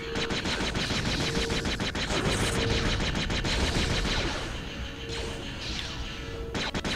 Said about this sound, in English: Something's shooting at us.